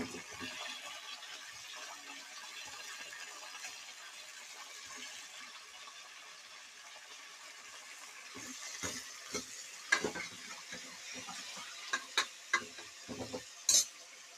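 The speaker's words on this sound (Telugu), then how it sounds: "కొంచెం ఫ్రై అయ్యాక టమాటో కట్ చేసిన టమాటోస్" Chopped tomatoes sizzle in a pan under a steady, quiet frying hiss, then scraping stirs rise toward the end, with several sharp spoon-on-metal knocks.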